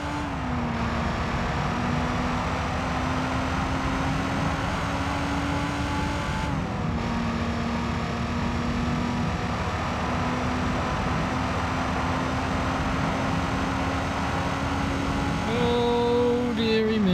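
A rear-engine race car in the Gran Turismo 3 video game drones at a steady, loud engine pitch, with a brief dip in the engine note partway through and rising revs near the end.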